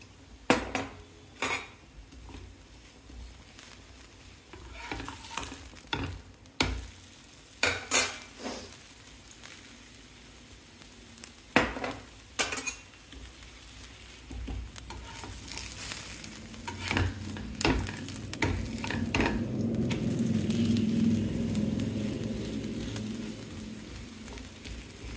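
Ghee sizzling and frying in a pan while a utensil stirs and scrapes, with repeated metallic clinks and knocks against the pan and a steady sizzle that grows louder toward the end; no talking.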